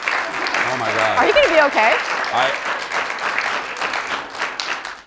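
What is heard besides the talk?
studio audience applauding and cheering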